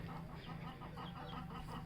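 Aseel chickens on a rooftop setup give low, steady clucking and fowl calls, a continuous murmur of birds fairly close by with no talk.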